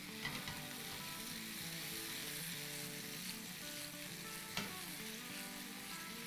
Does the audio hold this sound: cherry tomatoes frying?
yes